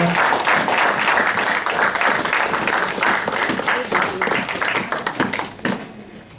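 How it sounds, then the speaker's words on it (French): A church congregation claps loudly and steadily during a sermon, with dense applause that tails off near the end. "Si cette parole te fait du bien, tu peux acclamer le Seigneur."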